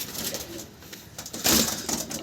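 A Madras or Giribaz pigeon coos nearby, giving a few soft, throaty calls that swell and fade over faint background noise.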